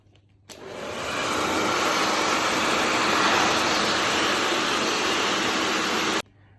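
A heat gun warming a GoPro helmet mount on a Shoei GT Air 2 switches on abruptly, blows a loud steady airy roar for about six seconds, then cuts off.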